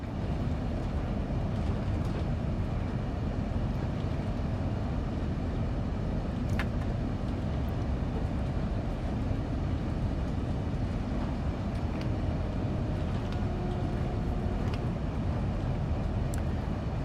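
A train rolling in Train Sim World 2, a loud, steady rumble of wheels and carriage noise running throughout with faint clicks and squeals over it.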